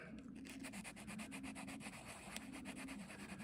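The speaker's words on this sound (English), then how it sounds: "And if I sand backwards against that scratch, I'm going to smooth that back area out more." Sandpaper rubs back and forth against a scratch on black or brown leather shoes, a steady close rasping scrub with rhythmic strokes throughout and no talking.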